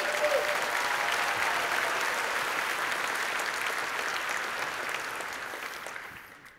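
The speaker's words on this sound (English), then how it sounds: "Please give a huge round of applause to these 5 companies." A conference audience gives sustained, dense applause for five companies, a full even roar of clapping that stays loud before tapering off at the end.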